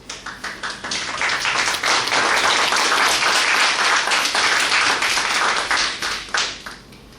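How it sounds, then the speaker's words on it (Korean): A lecture audience at a university political forum welcomes a former justice minister with applause, starting as scattered claps, swelling into dense sustained clapping, then tapering off near the end. "우리 김정배 장관님을 여러분의 뜨거운 박수로서 모시겠습니다."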